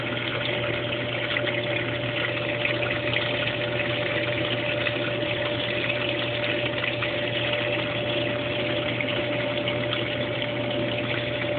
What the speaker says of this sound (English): the machine has a huge space between the drum and the tub